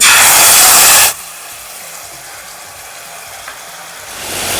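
Chopped garlic fries in butter with ketchup in a pan for Korean-style hamburger steak, giving a loud close sizzling burst that falls to a quieter steady hiss before swelling again at the end, with no voices.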